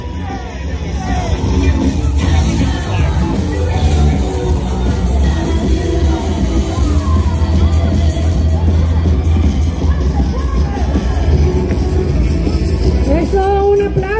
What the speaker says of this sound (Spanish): un aplauso para Bolivia